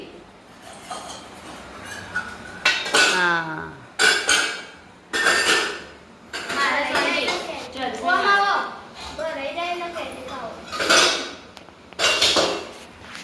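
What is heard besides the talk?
metal utensils being taken down and handled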